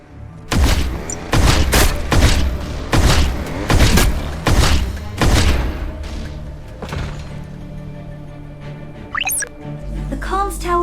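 A comms tower is blown up in the video game RF Online NEXT, with a series of loud, heavy booming blasts coming in quick succession up close. Rumbling debris trails off afterward, and faint voices follow at the end.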